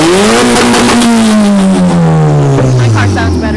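A car engine revs hard, loud and close, its pitch climbing then sliding steadily down over a few seconds, with voices talking over it.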